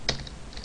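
A computer keyboard is struck while Java code is typed, giving one sharp keystroke followed by a few fainter taps over a low steady room hum.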